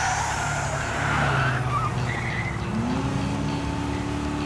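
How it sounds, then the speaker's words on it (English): Engine of a turbocharged car in the video game Trails through Daybreak, a steady loud motor roar with a whine that rises and then holds near the end, with no talk. "Is that a turbocharger?"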